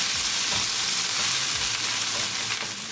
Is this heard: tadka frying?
yes